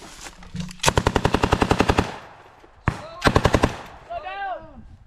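Rapid automatic gunfire during US Marine combat training, two close, loud bursts of evenly spaced shots with a single shot between them, followed by ringing echo.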